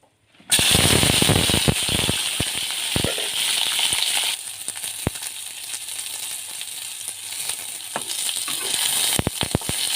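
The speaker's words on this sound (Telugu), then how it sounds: "వేగుతున్నా చూడండి ఇలా వేగితే టేస్ట్ ఉంటుంది" Green chillies drop into hot oil in a kadai and fry loudly, a sudden close sizzle that stays dense throughout, sprinkled with sharp pops and crackles.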